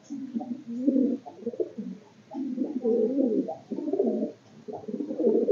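Madrasi pigeons in a loft coo continuously in overlapping low, throaty phrases, several birds close by with no talk.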